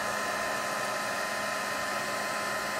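A heat tool blows air steadily over watercolor ink, producing a continuous, even whooshing hum with no breaks, close and moderately loud.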